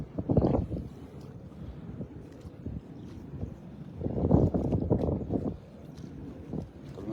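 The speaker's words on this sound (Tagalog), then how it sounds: "Biglang lumakas yung hangin" Strong wind gusting beside a river at night while crabs are caught, swelling into two loud rushing bursts of buffeting microphone noise with quieter blowing between.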